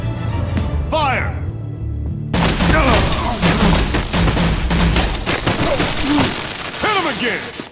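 Gunfire in the Batman: The Enemy Within game bursts out in a loud, dense volley after about two seconds, with crashing booms continuing under shouted voices.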